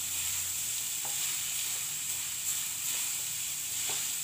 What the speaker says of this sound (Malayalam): ഇനി എല്ലാം കൂടി നന്നായിട്ട് മിക്സ് ചെയ്ത് കൊടുക്കണം